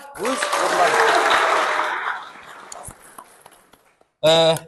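A crowd at a school reunion evening bursts into applause mixed with cheering voices, swelling then fading away, followed by a brief loud voice at the end.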